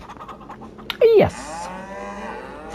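A cow in the farming game Farm Sim 25 gives one short, loud moo near the start, rising and falling, over a low background of quiet talking and rustling.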